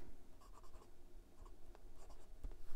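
A Leonardo Momento Zero Grande fountain pen in ebonite rosewood, fitted with a broad 14 karat gold number 6 nib, writes on paper with soft, close scratchy strokes in short bursts.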